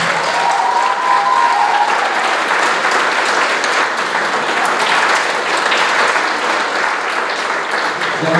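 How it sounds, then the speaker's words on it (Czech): Audience at an award ceremony for a biology olympiad final round applauding, a dense, loud, sustained clapping from a large crowd with no break, briefly overlapped by a voice near the start. "Zaslouží potlesk."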